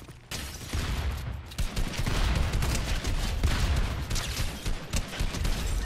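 Dense, continuous gunfire from a Fortnite Reload match, volleys of shots overlapping in rapid bursts that start abruptly and keep going loud for several seconds without talk.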